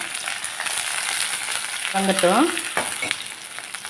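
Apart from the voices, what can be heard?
curry leaves and shallots frying in a pan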